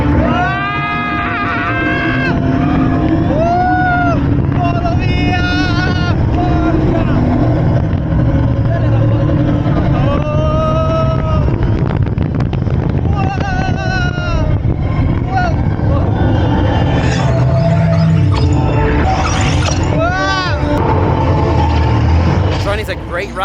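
Tron launched roller coaster ride at Shanghai Disneyland, a loud, continuous roar of track rumble and rushing wind, with riders screaming and shouting throughout the run.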